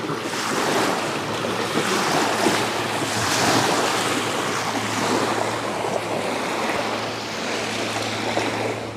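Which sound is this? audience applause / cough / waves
waves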